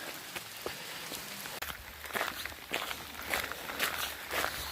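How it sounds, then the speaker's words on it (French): Footsteps crunch along a path in the rain, irregular close steps over a faint steady patter of falling drops. "On continue toujours sous la pluie."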